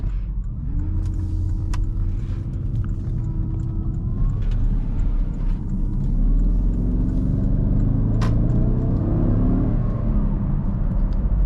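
2013 Porsche Cayenne Turbo pulling away at partial throttle, a deep engine rumble rising in pitch through the gears, heard from inside the cabin with a couple of brief clicks over it.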